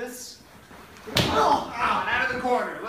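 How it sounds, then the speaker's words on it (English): A backyard wrestler stomps down on an opponent's injured right shoulder, one sharp, loud slam landing partway through, with commentary running underneath before and after. "Adam stomping on the shoulder"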